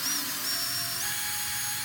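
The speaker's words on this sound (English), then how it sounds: "Here we are drilling a hole in that that solid rod for the axles" A continuous high-pitched grinding whine of a drill boring a hole into a solid steel rod, steady and close, with no pauses.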